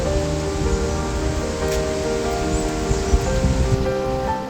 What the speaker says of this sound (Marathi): मी सध्या दाभोसा धबधबा इथे आहे.